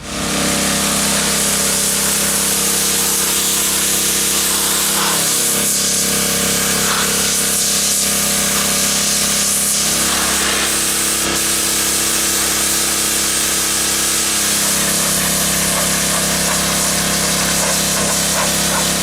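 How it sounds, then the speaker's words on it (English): A pressure washer blasts grime off a rock-faced carved stone, making a loud, unbroken, hissing roar that shifts slightly as the spray moves across the surface, with no voices. "we're going to power wash the stone, get a lot of the grime off first"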